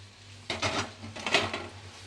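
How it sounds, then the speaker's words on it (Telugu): Boiled noodles being tossed in a pan with two spoons, a few soft scraping and clinking strokes of metal against the pan, close and fairly quiet. "అంతా ఇలా బాగా కలిసే వరకు బాగా ఇలా మిక్స్ చేసేసుకోవాలి"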